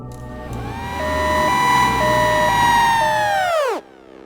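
An ambulance siren wails loud and near in a steady rising-falling tone, then cuts off abruptly near the end.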